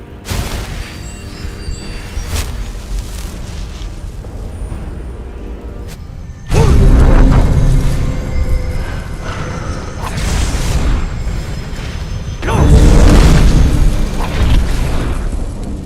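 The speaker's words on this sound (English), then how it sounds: "Got him with the Earth Song explosion." Earth Song spell explosions in Skyrim land as two sudden, heavy booms a few seconds apart, each rumbling loudly before fading back into a lower, steady din.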